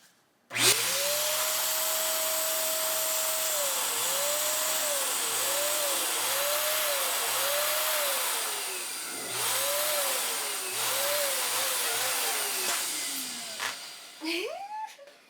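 An electric pump inflates a 14-inch balloon with a loud, steady motor whine whose pitch rises and falls in repeated swells, then the pump shuts off near the end with a brief squeak of rubber.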